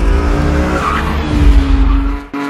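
A homemade Formula 1-style car driving and skidding in Tanzania, with loud, close engine roar and tire squeal, continuous throughout before cutting off abruptly near the end.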